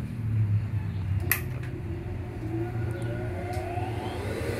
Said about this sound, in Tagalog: Mararamdaman nyo at maririnig nyo yung motor after 3 to 5 seconds, naka-start na siya na maayos.